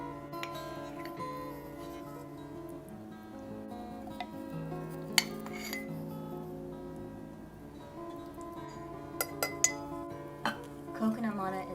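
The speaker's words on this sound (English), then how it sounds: "To begin, we will mix the coconut manna" Coconut manna and maple syrup being mixed in a bowl for raw vegan cookie dough give soft clinks and scrapes of utensil on bowl, with a few sharper taps near the end, all under steady background music.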